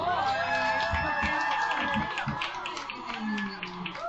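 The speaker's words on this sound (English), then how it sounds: "I love the applause for the song" An audience at a trattoria applauds and cheers after a song, a dense wash of clapping with whoops rising above it, fairly loud and continuous while voices talk over part of it.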